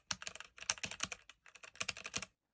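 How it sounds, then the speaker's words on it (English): A stock RK84 mechanical keyboard being typed on, giving bursts of close, crisp clacky keystrokes in quick irregular runs with brief pauses, and no voices. "When I first got this keyboard, this is what it looked like stock, and this is what it sounded like."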